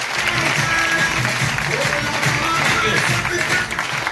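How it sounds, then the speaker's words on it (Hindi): Applause from an audience at a networking gathering, steady and loud for about four seconds, mixed with cheering voices and a low music-like hum underneath. "जबरदस्त तालियां साहब।"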